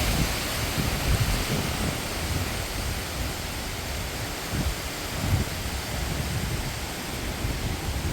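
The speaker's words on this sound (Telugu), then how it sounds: "గాలి గట్టిగా వస్తుంది" Strong wind from a cyclone storm roars steadily into the microphone, a dense continuous rush with gusty buffeting throughout and no voices.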